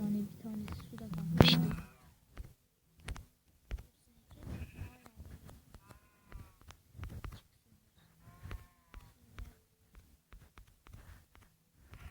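Sheep in a farm in the Minecraft video game bleat several times, short blocky baas scattered among light footsteps and quiet game sounds, with someone talking in Turkish throughout.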